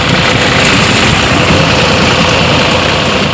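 A steady, loud engine drone runs throughout, heavy and continuous like a tractor motor working close by, with no other sounds standing out.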